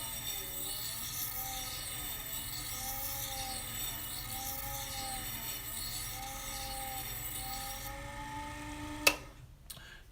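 A shear blade being honed on an Ez-Vex wheel to knock down the burr gives a steady, close scraping hiss with a rhythmic sweep repeating about once a second, then a sharp click as it stops.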